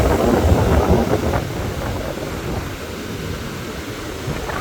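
Strong wind roars over a rough sea on the Colombo coast, a steady, loud rush with low rumbling surf underneath that stays fairly constant and eases off slightly.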